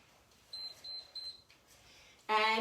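Electronic beeps during a home legs and core workout: a faint repeated tone pulsing a few times, then a louder, sharper beep at the end, over a quiet background.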